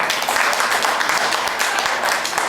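Live audience at the Ground Zero Lounge with Clyde Lewis clapping, a steady, dense patter of many hands applauding, moderately loud and uninterrupted.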